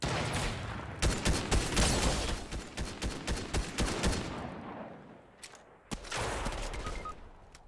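Rapid bursts of video game gunfire from Fortnite crackle in quick succession, loud and dense for several seconds, then pause before another volley, with faint talking underneath.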